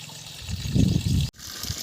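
Water gushing from a 1200W BLDC motor borewell pump in a village setting, a close, splashing flow that swells, cuts out abruptly for an instant, then resumes more lightly.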